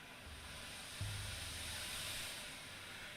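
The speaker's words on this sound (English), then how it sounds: "The steam coming off this train is insane." Steam hisses off a train in the game Pathologic 3, a faint, steady broadband hiss with a low rumbling hum that swells briefly in the middle.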